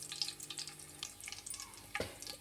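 Cumin seeds sizzle in hot oil in a home kitchen for an aloo meal maker curry, a steady crackling fry with a sharp burst of sizzle near the end, heard alone without talk.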